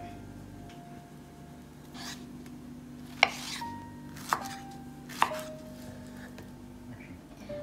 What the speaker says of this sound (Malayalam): ആദ്യമേ മാങ്ങ ഒന്ന് ചോപ്പ് ചെയ്തെടുക്കാം